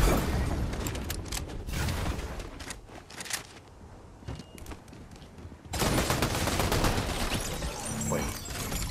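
Close-range machine gun fire in the Fortnite video game, played in long loud sustained bursts, easing into scattered shots mid-clip before another dense, heavy burst kicks in, with no speech over it.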